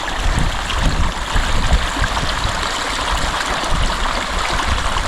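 A mountain stream near a village in Chitral's Yarkhoon Valley flows steadily and loudly, its broad rushing and gurgling water filling the whole stretch without pause.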